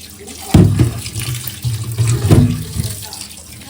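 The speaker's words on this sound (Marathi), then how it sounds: "हे आता व्यवस्थित आपण धुवून घेऊया मस्त." Running tap water pours over raw chicken leg pieces, lollipops and wings being rinsed at a kitchen sink, swelling into two louder surges of splashing and gurgling as the pieces are turned under the stream, with a low background hiss throughout.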